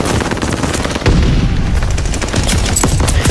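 Rapid submachine-gun fire from a STEN in the shooter game Call of Duty Vanguard, a dense, loud, continuous burst of shots with booming low impacts, no voices.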